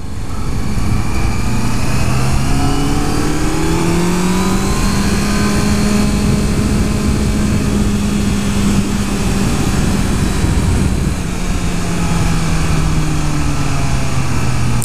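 Engine of a 2014 Honda CBR650F motorcycle pulling through the gears, a loud, close inline-four drone whose pitch climbs and eases in long sweeps, with steady wind rush throughout and no speech.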